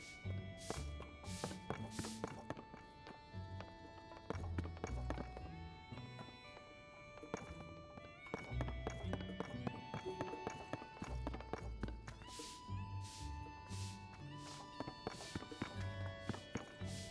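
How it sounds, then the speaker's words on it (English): Horse hooves clip-clop in Zelda: Tears of the Kingdom, a steady, even trot of close hoofbeats running throughout alongside game music and sound effects. "Horsey."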